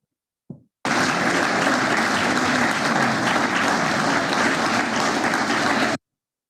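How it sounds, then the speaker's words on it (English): A played recording of a large crowd clapping together in rhythmic synchrony, starting abruptly after a brief click and running loud and unbroken for about five seconds before cutting off sharply. "So everybody is clapping collectively."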